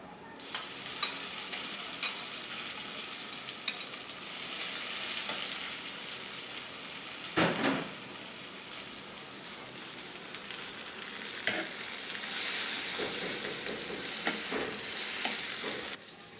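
Leafy greens frying with onions in a pan on an electric stove, a steady sizzle heard from a slight distance with occasional stirring scrapes, and no talking.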